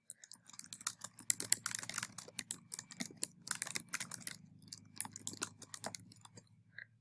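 Computer keyboard typed on in quick, light, irregular bursts of clicks, quiet and close, with a low steady hum underneath.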